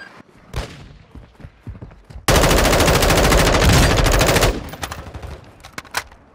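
Automatic gunfire in Warzone 2: a loud, continuous rapid-fire burst lasting about two seconds, with scattered single shots and distant pops before and after it.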